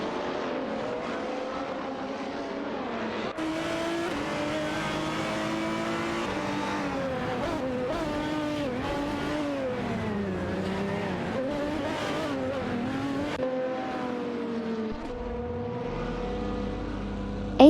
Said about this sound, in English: Kamikaze 38 in the Alzen Porsche 996 Biturbo is locked in a tight battle with Rizaldi Adha in the Maserati MiG-12 G-T